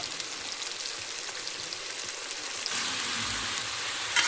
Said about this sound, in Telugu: ఈ మసాలా కూడా బాగా బ్రౌన్ కలర్ వచ్చేంత వరకు అయితే ఫ్రై చేసుకోవాలండి